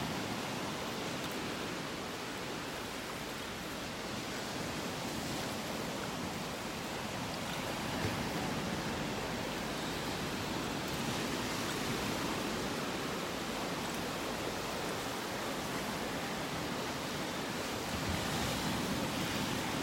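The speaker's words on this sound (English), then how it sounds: "It looks like the waves are letting up here." Ocean waves break steadily on a beach in North Naples, Florida, a continuous broad wash of surf with some wind noise on the microphone, fairly close and even in level throughout, with no voices.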